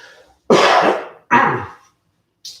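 Two loud, harsh coughs close up, the second slightly weaker, followed by a brief faint breath.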